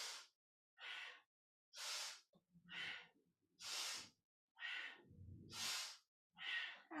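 Deep breaths during a kundalini yoga kriya, a quick, even run of about nine breathy inhale-exhale bursts separated by short silences, close to the microphone and fairly quiet.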